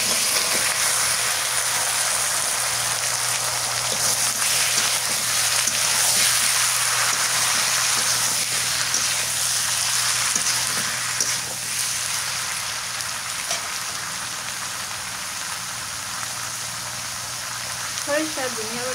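Bottle gourd dropped into hot oil with fried onion and chili, giving a steady, dense sizzle and hiss that holds loud and even throughout, with faint background hum.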